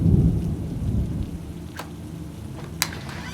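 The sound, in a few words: heavy rain and thunder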